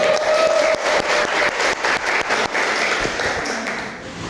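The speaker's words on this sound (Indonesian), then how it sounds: "Ya, beri aplaus." A room of participants at a teaching-practice training session at Universitas Bengkulu claps for the first-ranked participant, a dense burst of steady applause that holds and then thins out toward the end.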